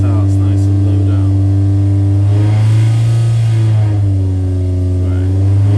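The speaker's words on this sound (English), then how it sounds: "I'm just going to put the load on the dyno now so that it starts nice and low down" A 998 race engine holds a steady, loud drone while loaded on a dynamometer, a deep continuous hum with a strong low tone and faint rising engine harmonics across the whole stretch.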